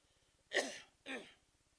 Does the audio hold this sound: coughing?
yes